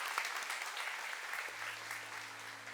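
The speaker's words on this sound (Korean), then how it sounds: "같이 한번 우리 박수로 축복해 주시기 바랍니다." A church congregation at a Sunday worship service claps steadily and evenly for the whole stretch, a dense wash of many hands heard from across the sanctuary over a low hum.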